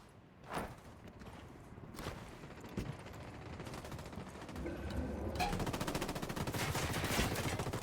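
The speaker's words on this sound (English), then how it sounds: "I'm opening fire." Gunfire in the video game Ghost Recon Wildlands: a few scattered single shots at first, then building into dense, rapid automatic bursts that grow louder toward the end.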